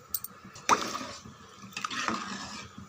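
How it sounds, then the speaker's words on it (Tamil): Water poured into rice for milagu pongal, with two short splashing pours, the first sharper and the second softer and longer, close by with no talking. "மொத்தமாக 6 டம்ளர் தண்ணி சேர்த்துடலாம்"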